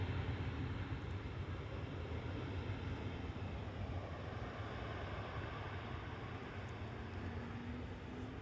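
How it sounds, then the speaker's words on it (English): A UR Airlines airliner from Erbil, Iraq, landing on the Polderbaan runway at Schiphol, heard as a steady distant low jet roar with a faint slowly rising whine, fairly quiet and without talk. "And this is UR Airlines arriving from Erbil in Iraq"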